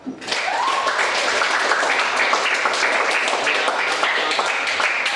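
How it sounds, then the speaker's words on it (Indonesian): A class of pupils applauds their teacher at the end of a lesson, steady dense clapping that starts abruptly and holds evenly for several seconds. "Pak Guru minta kalian tepuk tangan sekali lagi"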